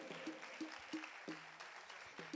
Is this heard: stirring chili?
no